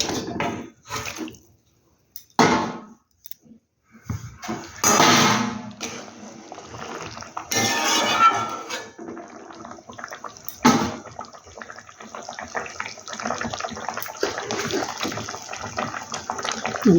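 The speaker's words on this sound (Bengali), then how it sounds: "দেখো জলটা আমার বেশ সুন্দর ফুটে গেছে এবার আমি মুটটাগুলো দিয়ে দেবো" Bottle gourd dumplings drop into boiling water, producing irregular close splashing and sloshing bursts between quieter gaps, followed by a steady watery rush.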